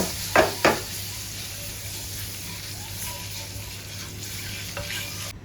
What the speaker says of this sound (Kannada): ಈಗ ಮೊಟ್ಟೆಯನ್ನು ಸ್ವಲ್ಪ ಮಸಾಲೆ ಫ್ರೈ ಮಾಡಬೇಕು